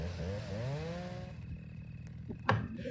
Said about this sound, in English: I'm being chased by two chainsaw murderers.